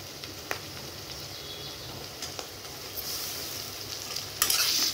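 Onions and ginger-garlic paste fry with a continuous low sizzle, broken by occasional spoon scrapes and a louder stirring burst near the end.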